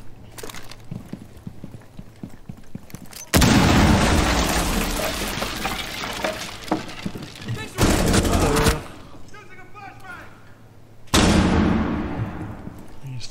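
Breach charges go off in Rainbow Six Siege on the Oregon training map, with three loud, close blasts: a long rumbling one, a shorter one a few seconds later and a third near the end, separated by quieter gunfire and game noise.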